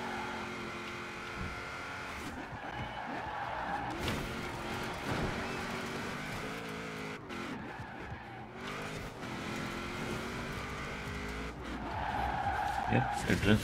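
A car drifting in the racing game Forza Horizon 4, with a steady engine drone and long tire squeal rising near the end, while someone talks over it throughout.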